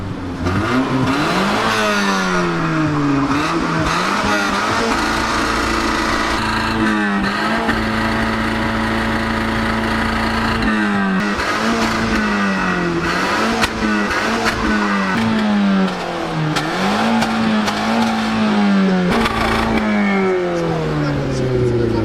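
A car engine, a 1.6-litre hybrid, revs up and down repeatedly, loud and close, with people talking over it throughout.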